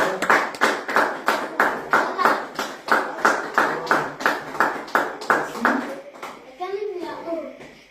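A church congregation claps in a steady, loud rhythmic beat, about two claps per second, with voices cheering and singing along before the clapping breaks off into scattered talk.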